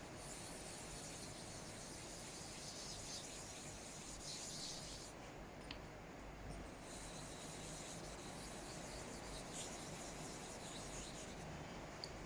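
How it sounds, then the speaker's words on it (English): A Nagura stone rubs against an 8000-grit waterstone to raise slurry, making a steady, close, gritty hiss that continues almost unbroken. "I'm just going to get the Nagura. Get a little bit of slurry up."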